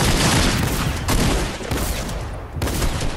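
Shotgun fire in the video game Fortnite erupts in a dense, loud barrage of overlapping blasts and bursts, with a short lull before the shooting picks up again.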